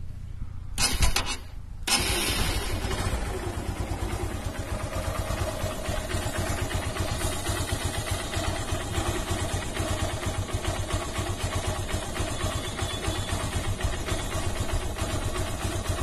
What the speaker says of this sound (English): Now let's listen to the sound of the engine.